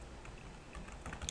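Quiet, quick keystrokes on a computer keyboard as an email address is typed, a faint patter of light clicks at close range.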